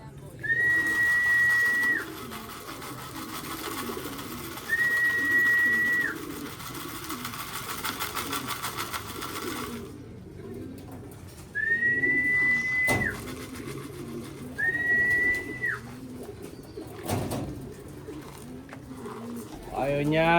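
Pigeons coo in soft, rising repeated phrases, racing pigeons outdoors, with a faint steady background hum and a person talking in between the calls.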